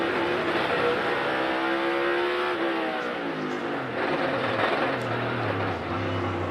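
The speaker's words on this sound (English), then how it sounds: "That's when it's chattering those rear tires, when you hear that real loud ratchet." A NASCAR Cup race car at Sonoma Raceway brakes hard, its rear tires chattering with a loud ratcheting buzz over the steady roar of the engine as the pitch drops.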